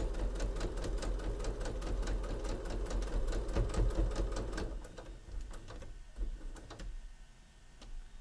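A sewing machine stitches pieced fabric for a sewing machine mat, a fast run of needle ticks that is close and steady for about five seconds, then slows into scattered stitches before stopping.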